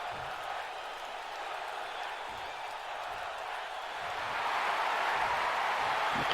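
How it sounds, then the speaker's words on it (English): A wrestling show crowd cheers and applauds steadily at a distance, a broad continuous roar that swells louder toward the end. "The crowd is surprisingly behind Razor on this one"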